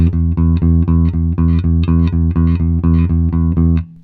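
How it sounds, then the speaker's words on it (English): Electric bass guitar plays steady pumping eighth notes on one root note, two long sustained notes per beat in a driving rock pattern, loud and alone, ending with a brief ring-out. "this is called pumping eighth notes"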